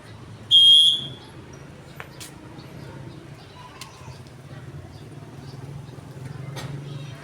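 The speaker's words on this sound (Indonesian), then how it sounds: "Ketika peluit dibunyikan, berarti sudah mulai berjalan." A whistle is blown once to start a children's ball-throwing game outdoors, a single short, sharp, loud blast near the start, followed by quieter background ambience.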